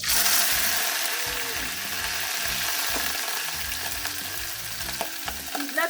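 Small omena fish dropped into hot oil, giving a dense, steady frying hiss with scattered pops and crackles, close and continuous throughout with no talking.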